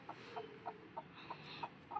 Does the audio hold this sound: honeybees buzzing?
no